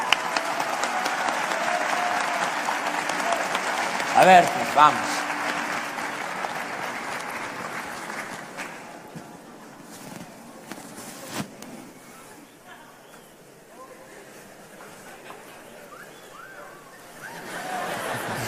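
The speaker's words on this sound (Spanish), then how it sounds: "Ahí está, un aplauso, por favor." Applause from a university audience at a Tec de Monterrey event fills the hall for several seconds, then fades into murmuring crowd noise and brief talk before the clapping rises again near the end.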